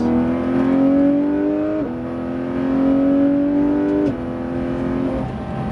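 A Porsche GT3 RS accelerates hard on the La Ferté-Gaucher circuit, its loud engine note climbing steadily and dropping briefly at two upshifts, heard close from inside the car.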